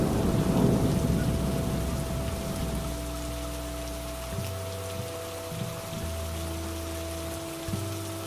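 Heavy rain pours steadily while low thunder rumbles and rolls through, loud at first and easing into a softer, continuous downpour.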